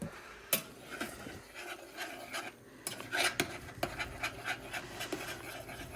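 A large spoon stirs instant mashed potatoes made from dehydrated flakes and boiling water, giving a close, uneven scraping and rasping that comes in repeated strokes with short sharp scuffs.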